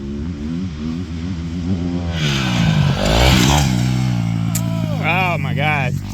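A Yamaha YZ250F dirt bike with a titanium exhaust rides and shifts through gears, its engine note rising and falling with revs near the microphone, while voices talk over it.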